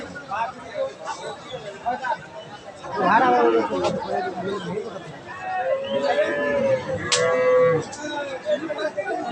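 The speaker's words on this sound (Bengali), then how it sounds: "হলিস্টান ফ্রিজিয়ান গাভি" Holstein Friesian cow lowing at a busy cattle market in Kaharol, several drawn-out moos rising over steady crowd chatter and nearby voices.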